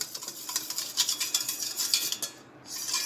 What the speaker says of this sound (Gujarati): આ રીતે એમાં મીઠું અને સોડા તેલ બધું પાણીમાં એકદમ સરસ મિક્સ થાય ત્યાં સુધી આપણે મિક્સ કરી લઈશું